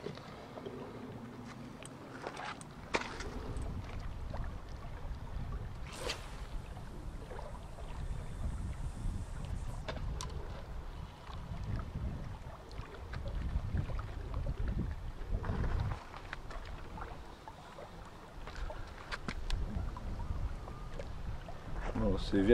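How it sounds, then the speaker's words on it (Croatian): Wind rises over open water at a wild-carp fishing spot in the Gorski Kotar forests. Low, buffeting gusts rumble close to the microphone, with scattered faint knocks and clicks throughout. "Se vjetar digao."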